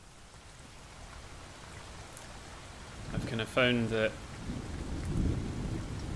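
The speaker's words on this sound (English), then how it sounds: "We'll bring in a wee bit more rain." Rain and thunderstorm sound effects from an app play as a steady wash of rain with a rumble of thunder rising toward the end, while someone talks briefly over it.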